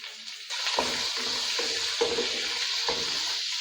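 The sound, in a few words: onion frying in ghee in a wok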